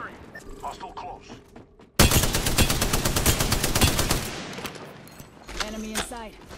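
Rapid automatic gunfire in the video game Apex Legends bursts in suddenly and rattles on loud and close for about two seconds, then tapers off into scattered clicks and mechanical noises.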